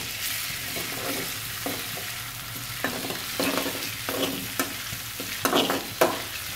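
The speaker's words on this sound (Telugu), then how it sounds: "అల్లం వెల్లుల్లి పేస్ట్ వేసుకొని కొంచెం ఫ్రై చేయండి అల్లం వెల్లుల్లి పేస్ట్ని." Ginger garlic paste fries in a pan for chicken pot biryani, a soft steady sizzle broken by repeated scraping stirs that grow louder and more frequent toward the end.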